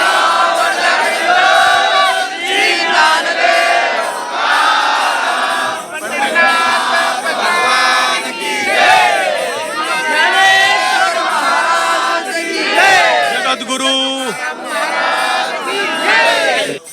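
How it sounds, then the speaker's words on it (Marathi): A large crowd of pilgrims at an Ashadhi Wari devotional gathering in Bhagalwadi chants and shouts a loud religious cry together, sustained rising and falling voices filling the space close and dense for the whole stretch. "आणि एकदा मोठा गजर झाला पाहिजे."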